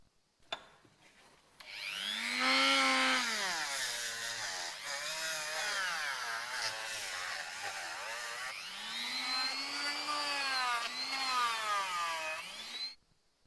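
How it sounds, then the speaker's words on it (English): A high-pitched rotary tool whines steadily for about ten seconds, cleaning the backs of brass pieces from an old hand saw, its pitch rising and dipping as it presses against metal, loud and close. "I'm going to clean the backs of the brass pieces with the rotary tool"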